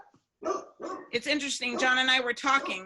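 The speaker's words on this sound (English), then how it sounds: "I'm sorry about my big dog." A big dog barks several times in close, loud bursts, mixed in with a person talking over it.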